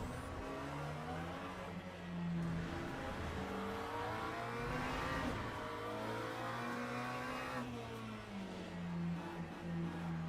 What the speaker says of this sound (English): Beautiful defensive driving from the Lambo there.